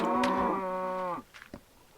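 A baby cow in Minecraft gives a single drawn-out moo, loud and close, lasting about a second before it breaks off, followed by a few faint clicks and rustles.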